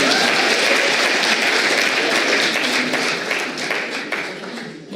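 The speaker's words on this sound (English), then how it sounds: "Guys, I want you to clap if you're up for it." Audience clapping in a hall at a college event, a loud, dense, sustained round of applause that stays full for several seconds before tapering slightly at the end.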